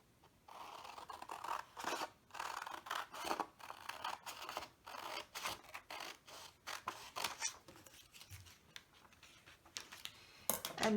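Scissors snip through paper to cut out a homemade face mask pattern, a close run of crisp, rhythmic cuts with short pauses between strokes.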